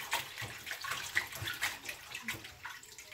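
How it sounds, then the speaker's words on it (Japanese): Tap water runs and splashes as food is rinsed in a home kitchen while making ehomaki sushi rolls, an uneven faint patter of water hitting the sink. "今度洗いあげる。"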